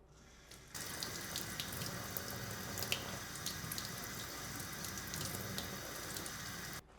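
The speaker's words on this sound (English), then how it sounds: "unwrap the new carbon filter from its packaging and rinse it underwater for 1 minute" Tap water runs into a sink as a LifeStraw carbon filter is rinsed under it, a steady close splashing gush that starts abruptly just under a second in and cuts off at the end, with no talking.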